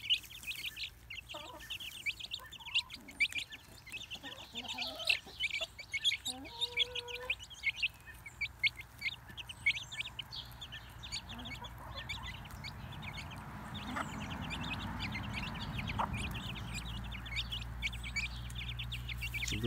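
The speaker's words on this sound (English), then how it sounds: "Such good chickies." Backyard chickens cluck and chirp softly through the whole stretch, with low murmuring calls among faint outdoor background noise and a steady low rumble building toward the end.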